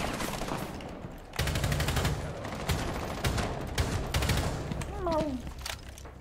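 Gunfire in Rainbow Six Siege comes as dense, loud bursts of shots that keep crackling for several seconds, with voices talking over the shooting.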